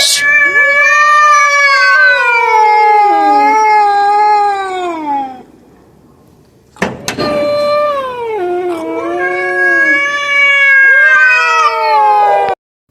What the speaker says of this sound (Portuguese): Gatas no cio tendem a incomodar com miados.